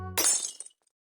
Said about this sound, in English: The glass bottle broke in a clear liquid.